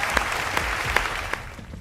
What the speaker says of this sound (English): Give it up for Dr. Kaffy